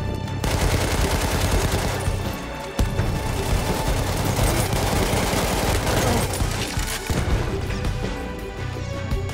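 MG1917 Telescope automatic rifle firing in Battlefield 2042, a dense, continuous roar of gunfire and crashing impacts lasting throughout, loud and close, with one sharper crack partway through.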